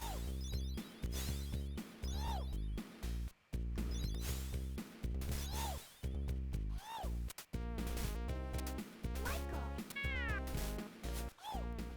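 A cat meows repeatedly in the Michael Jackson's Moonwalker video game, its rising and falling cries sounding over busy, loud game music that plays without pause.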